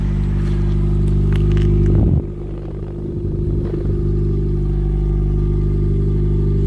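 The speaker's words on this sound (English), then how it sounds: "it's like a sort of a deeper tone to the exhaust pipe" A deep, steady exhaust from a Mitsubishi Outlander PHEV with a replacement wider-gauge pipe rumbles at idle up close, with a brief throaty surge and some clattering midway before settling back to a low drone.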